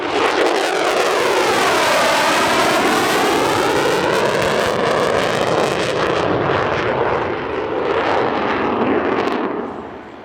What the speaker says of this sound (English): a Bo 105 and ATV create a billowing Polish flag over the runway, with the F-16's dedication pass right above